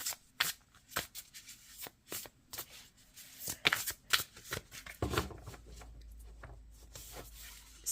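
Tarot cards shuffled and drawn from the deck, a run of quick papery riffles and flicks close by, irregular bursts of crisp card noise and slides, with no speech in the moment.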